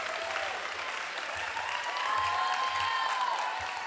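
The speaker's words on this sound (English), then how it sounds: "one more round of applause" Applause from the audience at a school's annual awards ceremony, a steady, moderately quiet wash of clapping that runs throughout, with a faint tonal whine and low thumps beneath.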